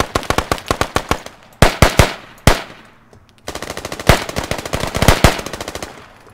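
Gunfire in the Squad video game: rapid automatic bursts and single sharp shots, loud and close, with short pauses between volleys and no voices.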